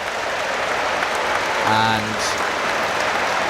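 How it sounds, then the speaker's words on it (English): Steady, warm applause from a football crowd as a substituted West Ham United player leaves the pitch in a League Cup match against Portsmouth, with a commentator speaking over it. "Jared Bowen is warmly applauded as he comes off"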